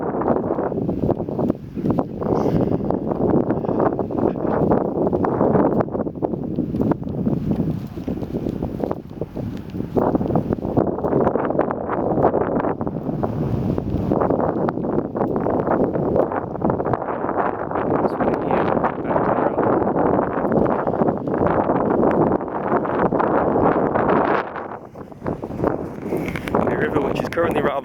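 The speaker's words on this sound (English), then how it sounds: "apologies for any wind noise going on" Gusting wind buffets an unshielded microphone outdoors on a countryside path with loud, rumbling blasts that rise and fall continuously, with speech partly buried underneath.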